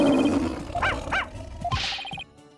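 Two short barks from a dog in the courtroom game Ace Attorney: Spirit of Justice, bright and close, heard over game music and blips with no voices.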